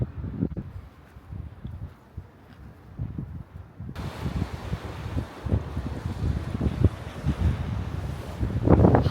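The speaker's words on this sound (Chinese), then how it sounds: "湖边还是有点冷的， 因为它刮风。" Wind gusting at a lakeside in Hokkaido, a low rumbling buffet on the microphone that strengthens after the first few seconds and swells again near the end, with no voices.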